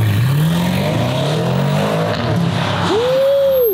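Race car with a 575-horsepower engine and a rear wing pulls away and accelerates hard, its engine note climbing through the gears, then a sharp high rev flares and falls near the end, loud and close with no talk.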